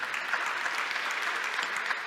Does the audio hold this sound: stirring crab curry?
no